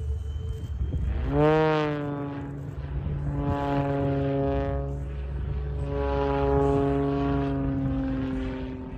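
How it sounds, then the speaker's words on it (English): An aerobatic propeller aircraft at an air show roars past in repeated sweeping passes, its engine pitch rising and falling loudly over several seconds. "This is a demonstration of aerobatics at an air show."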